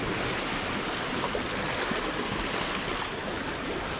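Sea in Bermuda churned up by passing yachts, a continuous close wash of rushing, breaking water with steady noise throughout.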